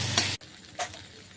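Potatoes stirred in a frying pan with green chilli paste, turmeric and yogurt, giving a loud sizzling scrape followed by a brief pause and a softer short stir.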